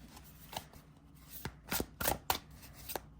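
Tarot cards, slightly longer than regular tarot cards, are shuffled by hand in quick, quiet bursts of riffling and soft slaps, with brief pauses between.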